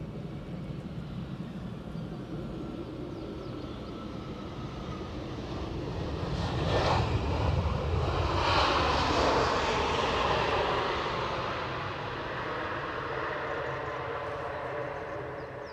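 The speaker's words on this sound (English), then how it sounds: "it's an Iberia Express Airbus A320 arriving from Madrid" An Iberia Express Airbus A320 arrives at Edinburgh Airport from Madrid, its engine roar rising from a low rumble to a loud pass near the middle, then easing back into a steady whine and rumble.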